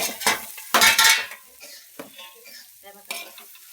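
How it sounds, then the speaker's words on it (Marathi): Green chillies frying in hot oil in a pan, with spoon stirring and scraping against the metal, loud bursts early then softer clinks and sizzling, no talk. "मिरची भाजली गेली पाहिजे ना, कच्चं नाही लागलं पाहिजे ते."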